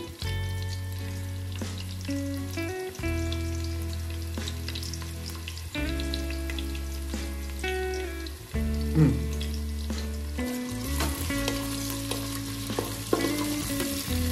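Onions frying in oil for a mutton curry in a pressure cooker, a steady close sizzle with occasional stirring and clinks, humming tones from the kitchen running underneath throughout.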